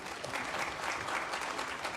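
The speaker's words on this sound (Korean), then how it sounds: "힘찬 격려와 친한 박수 부탁드리겠습니다." A church congregation applauds during a Sunday worship service, steady dense clapping filling the room at moderate level for the whole stretch, with no voices standing out.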